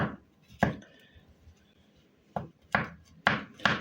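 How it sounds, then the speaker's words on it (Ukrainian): Mushrooms sliced with a knife on a board: a handful of crisp, close chopping knocks, one early, then a quick run of four cuts after a pause. "грибочки я кришу слайсами"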